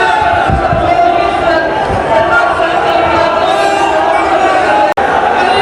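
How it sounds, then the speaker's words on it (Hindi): A huge crowd of thousands of supporters roars, hoots and cheers continuously at an RLP political rally in Salasar as Hanuman Beniwal arrives, a loud, dense, unbroken wash of voices. "हजारों समर्थकों की जोरदार हूटिंग के बीच हनुमान बेनीवाल जोरदार हूटिंग के साथ पहुंच रहे हैं"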